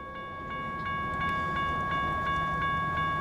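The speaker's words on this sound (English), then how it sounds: "A loaded grain train makes its way west, towards a crew change at Pasco." A loaded grain train rolls steadily past in Montana with a low rumble, periodic wheel clicks and a sustained high metallic whine, fairly close and continuous.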